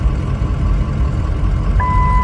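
Ford Powerstroke 6.0 truck dashboard warning chime for check gauges, a single clear electronic tone that starts near the end and holds steady over a low engine rumble inside the cab.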